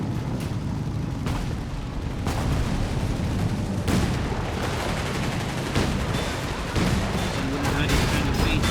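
Mortar and artillery fire rumble in a Company of Heroes 3 match between the Afrika Korps and US forces, with dense repeated booms and bursts throughout while a caster talks over the battle.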